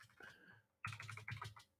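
Someone types on a computer keyboard during a sports betting show, in two short bursts of close, rapid key clicks with no talking.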